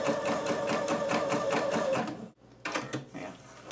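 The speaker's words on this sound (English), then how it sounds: "And just do one simple basting stitch all the way around." A home sewing machine runs a long basting stitch along sweater knit, a fast, even mechanical chatter that stops abruptly, followed by a short pause and a few fainter clicks and handling sounds.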